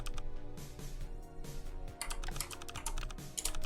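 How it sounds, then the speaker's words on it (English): Fast typing of numbers on a computer keyboard: a dense, continuous clatter of keystrokes, close and steady throughout with no voices. "I typed those numbers in pretty fast."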